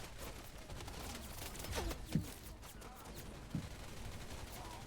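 Distant gunfire in the video game Wild Assault, a few scattered pops and short bursts over a steady battlefield ambience, fairly quiet throughout with two sharper shots standing out.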